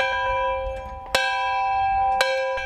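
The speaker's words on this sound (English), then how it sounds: "On June 18th, Marlene McPherson capped off her 44 years at Walnut Grove by ringing the original school bell" An old original school bell rings with a bright metallic clang, two sharp strikes whose tones hang and ring on between them, heard fairly close with no voices.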